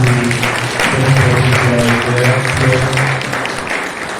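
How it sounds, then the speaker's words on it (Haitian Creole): A church conference crowd claps in a dense, steady burst of applause, mixed with sustained voices or music and fading slightly toward the end. "Nous battions applaudissements pour"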